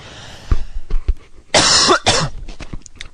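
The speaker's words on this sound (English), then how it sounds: "I'm really sorry for my cough." A game commentator at a Warcraft match coughs close to the microphone, a few short coughs followed by a longer harsh burst and a rasping throat clearing.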